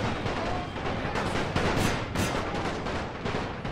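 Cannon fire from a Total War: Napoleon battle crashes out in a dense, continuous volley of sharp booming reports, loud and close, with no voices.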